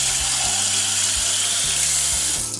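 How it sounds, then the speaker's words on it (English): Water runs steadily from a kitchen tap as hands are washed beneath it, a loud continuous splashing rush that carries on without a break and then tapers slightly at the very end. "Let me wash my hands for a second."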